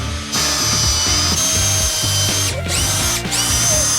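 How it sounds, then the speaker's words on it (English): A power drill fitted with a 3/8 bit bores pilot holes during Harley engine work, giving a loud, close, continuous high whine with a rough grinding undertone and two brief dips in pitch as the bit bites, with no talking. "All right, so we are gonna drill our pilot holes first."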